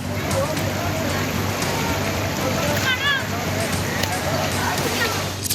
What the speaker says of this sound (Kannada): ಭಾರಿ ಮಳೆಗೆ ಹಳ್ಳ ಕೊಳ್ಳಗಳು ಉಕ್ಕಿ ಹರಿಯುತ್ತಿವೆ